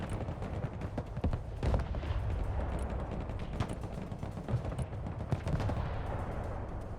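Combat in the Broken Arrow video game: dense, continuous rattling gunfire and muffled bursts, fairly faint and unbroken, with no voices heard.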